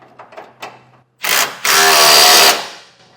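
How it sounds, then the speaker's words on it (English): A 3/4 inch socket and wrench run a bolt down tight while fitting TorkLift frame-mounted tie downs to a 2024 Chevrolet truck: a few light ratcheting clicks, then a loud, sustained whirring burst close up. "So I have a 3/4 inch socket"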